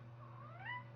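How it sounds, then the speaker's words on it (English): A house cat lets out a single drawn-out, rising meow indoors, fairly quiet and close, over a low steady room hum with no talking. "hush, kitty."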